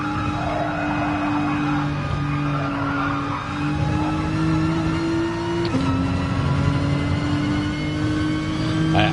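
Nissan GT-R race car in Gran Turismo Sport at Spa, its engine holding a steady loud drone with a gear change midway and continuous tire and road noise.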